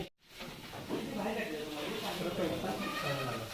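Goats bleat on a goat farm where chickens are also kept beneath the goat shed; several wavering calls overlap continuously at close range amid background noise.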